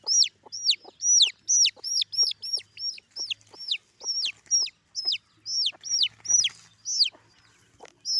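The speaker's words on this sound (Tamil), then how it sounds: "அந்த குஞ்சுகள் வந்து எவ்வளவு கத்துதுன்னு பாருங்களேன்" Chicken chicks caught in a clinging plant give loud, shrill peeping cries, repeated in a steady rapid rhythm close by with no other sound.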